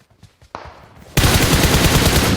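Automatic gunfire in the battle royale game PUBG Mobile: a few faint taps, then a sudden loud, sustained burst of rapid shots that carries to the end.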